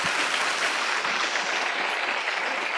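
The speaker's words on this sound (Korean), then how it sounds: "Glorious round of applause to the Lord." A congregation at a Friday prayer service applauds in a dense, even wash of clapping that holds steady throughout, with no voices over it.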